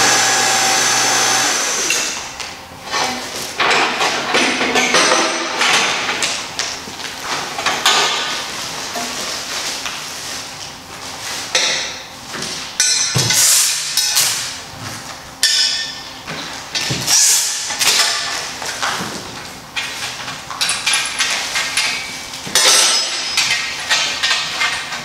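A mandrel rod is pulled out of a freshly bent 1.75 x .065 stainless steel tube in a fabrication shop. Loud, continuous metallic scraping and clattering comes with sharp bursts throughout.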